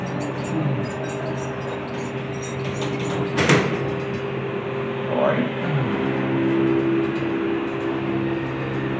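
A Schindler scenic hydraulic elevator with a faulty door operator runs its sliding doors, giving a steady hum with a sharp clunk midway and a rising slide a little later. A person speaks nearby.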